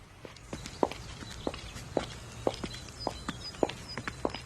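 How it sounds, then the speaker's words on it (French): Walkers pass along a path, heeled shoes clicking in a regular, fairly close rhythm of sharp taps about twice a second, with softer scuffing steps in between. "Le claquement de chaussures à talons."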